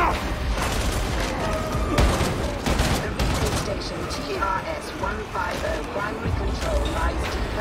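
Steady gunfire and combat noise from the video game Warhammer 40,000 Darktide carry a loud, dense stream of shots and impacts with scattered sharper bangs throughout.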